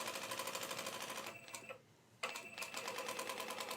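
A sewing machine runs steadily while stitching the main seam of a shirt made from scraps, a fast even whirring rattle that stops for about a second and then starts again, close and alone.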